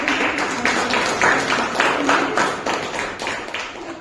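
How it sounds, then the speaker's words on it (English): A crowd claps steadily for several seconds, a dense, continuous patter of many hands at moderate loudness with no voices over it. "Can we have a huge round of applause for our"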